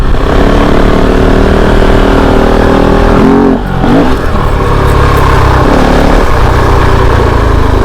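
A Kove 450 Rally motorcycle engine revs hard in second gear, a loud close buzzing roar that climbs in pitch, eases briefly around a gear change, then pulls strongly again.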